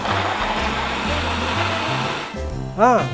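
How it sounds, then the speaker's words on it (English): A locked blender whirs steadily as it purées ingredients including garlic powder and green lime for a chicken shawarma recipe, a loud close motor drone that shifts pitch as it winds down near the end. "So, lock your blender, everything is locked, and then we start to blend."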